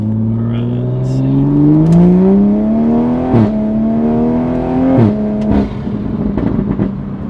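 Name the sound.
Toyota Supra A90 accelerating and shifting gears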